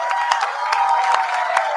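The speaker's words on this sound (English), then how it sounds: "Can we please have a big round of applause for Neha and Rasika?" Applause for Neha and Rasika at a live women's event, a dense wash of clapping with a few sharper claps standing out, steady and fairly close for under two seconds.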